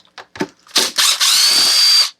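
A power drill whirs in short bursts then runs steadily, removing the last fastener from the handle of an old Stihl 021 chainsaw during servicing; close and loud with no talk.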